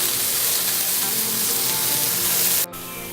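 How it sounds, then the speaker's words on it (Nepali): Sweet corn, peas, chopped capsicum and carrot pieces fry in a pan with a steady, close hiss. The sizzle runs unbroken for a few seconds, then drops suddenly to a quieter crackle. "यसलाई एकैछिन चलाएर पकाउँछु।"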